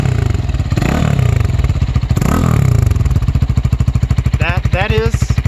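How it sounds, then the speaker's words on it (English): A loud, close Lifan KPR 200 motorcycle with a KPMoto-Club aftermarket exhaust idles with a deep, throaty pulsing, rising in a couple of revs; a voice speaks briefly over the rumble near the end. "you can hear, it is a little bit more throaty than the factory exhaust now."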